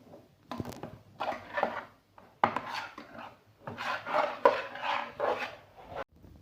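Pitha filling being stirred in a pan, with irregular scraping and rubbing strokes of a spoon against the pan that come in bursts with short pauses between them, close and moderately loud.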